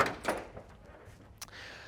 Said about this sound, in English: Opening up the passenger side door